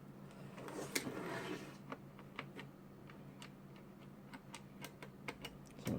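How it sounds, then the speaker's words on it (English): The Edge joystick by Emio gives crisp, light clicks as its buttons are pressed, a scattered series of quiet, close taps with irregular spacing. "So it's pretty clicky there."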